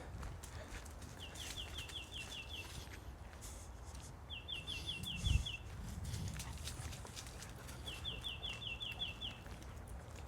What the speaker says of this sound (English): Y'all hear that bird? Wonder what it's trying to communicate.